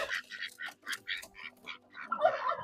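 Several ducks quack in a rapid, overlapping series, close by and fairly loud, with a louder burst of calls near the end.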